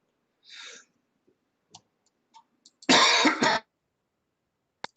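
A loud, harsh cough burst lasting about half a second, preceded by a throat-clearing sound and a few faint clicks and breaths, close to the mic.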